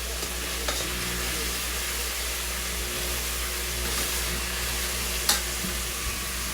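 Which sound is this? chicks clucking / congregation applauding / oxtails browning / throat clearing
oxtails browning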